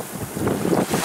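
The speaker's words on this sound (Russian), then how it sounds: "на камеру это не видно, но в жизни это очень страшная волна" Stormy lakeshore surf pounds in through steady wind buffeting the microphone, waves rolling and crashing continuously and loudly close by, with no voices.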